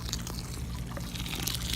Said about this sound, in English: I'm just gonna pour some very hot water down into it